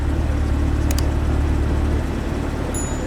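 A steady, low engine hum from a 2020 C8 Corvette mid-engine sports car in tour mode, smooth and subdued, holding a constant level throughout with no revving.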